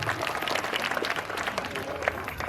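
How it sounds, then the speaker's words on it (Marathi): Spectators at a skipping-rope game show break into steady applause, a dense burst of clapping from a nearby crowd with a voice or two mixed in. "जोरदार टाळ्या"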